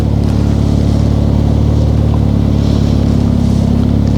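A car's engine and exhaust running in one of its selectable drive modes such as Sport or Sport Plus, a loud, steady, deep rumble that holds evenly throughout with no talk over it.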